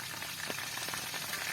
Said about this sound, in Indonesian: Kita goreng ayam dulu ya.